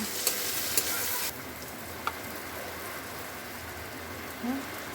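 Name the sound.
stirring coriander powder and spices in pan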